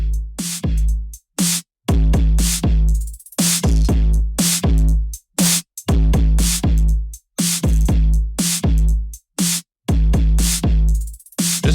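A loud, repeated kick drum passed through an H76 plugin modelled on the classic 1176 limiter, hitting in a steady groove of deep, punchy thumps separated by short gaps, with no talk over it.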